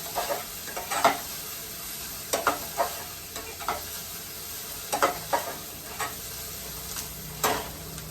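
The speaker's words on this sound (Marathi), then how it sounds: "कांदा आपल्याला छान परतून घ्यायचा आहे" Sliced onion sautéing in a pan for vermicelli upma, with a steady sizzle under repeated scraping and stirring strokes from a spoon, close and moderately loud.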